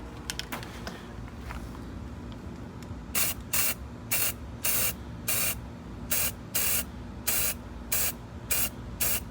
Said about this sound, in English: let's try the undercoating first to fill in defects